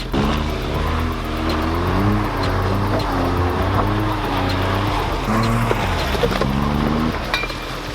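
The small engine of a smart car hums and revs in gentle rises and falls as it edges back and forth into a parking space, a steady close drone with no voices.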